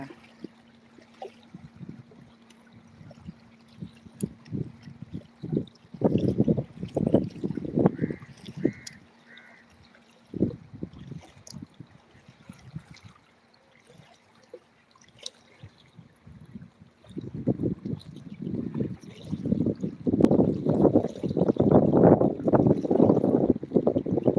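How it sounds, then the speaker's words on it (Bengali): A boat moves on the Padma river: quiet water and wind with bursts of splashing and churning that grow louder near the middle and swell again toward the end, heard at fairly close range. "নৌকা যাচ্ছে"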